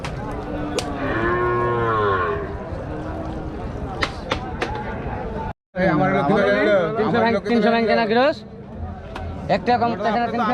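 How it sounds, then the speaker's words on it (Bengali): Cattle low loudly at close range at a Qurbani livestock market in Rajshahi, Bangladesh, amid a busy crowd of voices and general commotion, with several drawn-out moos. "এখানে কিছু বড় গরু আছে"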